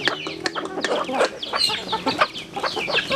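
Farm chickens cluck and squawk in quick, busy bursts, close and fairly loud, with several birds calling over one another throughout.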